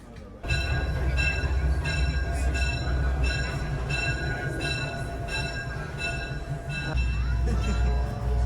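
A WK&S Railroad passenger train rolls along with a steady, loud rumble and thin metallic whine, continuous throughout and growing heavier near the end, with faint voices in the background.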